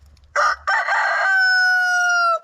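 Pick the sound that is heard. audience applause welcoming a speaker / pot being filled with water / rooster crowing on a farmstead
rooster crowing on a farmstead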